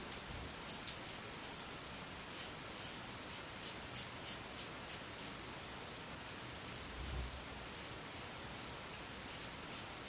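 A razor draws through shaving lather on a cross-grain pass, giving a steady run of short, close scratchy strokes in a fairly even rhythm, heard alone and quiet.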